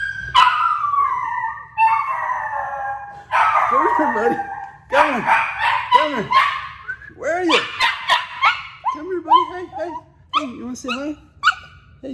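A talkative pet dog howls and vocalizes in repeated rising and falling yowls, loud and close, interleaved with someone speaking to it.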